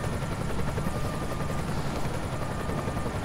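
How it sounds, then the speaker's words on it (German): Steady helicopter rotor drone from the video game Emergency 2017 as the aircraft comes in to land, a continuous loud whirring buzz with even chopping texture and no talk over it. "Weil der Heli ist da."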